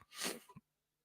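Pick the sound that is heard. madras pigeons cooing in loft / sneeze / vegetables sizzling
sneeze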